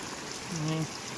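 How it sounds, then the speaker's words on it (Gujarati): Steady heavy rain hisses broadly and evenly over a flooded farm field, with a brief low hum or voice-like tone rising midway through. "જો એકદમ જોરદાર વરસાદ"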